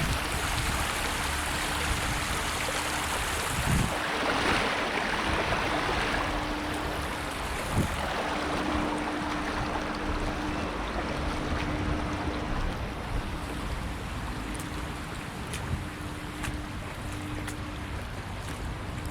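A river meandering between man-made walls in a post-industrial area flows steadily, a dense continuous wash of water noise holding at an even level throughout, with a faint low hum running underneath.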